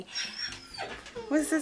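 A puppy whines from its cage in the background, with a couple of short, high, tonal whimpers near the end, while someone talks over it.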